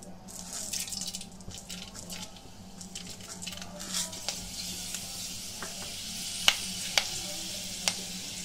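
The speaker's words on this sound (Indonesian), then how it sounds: "Kita goreng dulu." Spices crackle and sizzle in a pan of reused oil that was browned from frying fish, a steady close hiss with sharp scattered pops near the end.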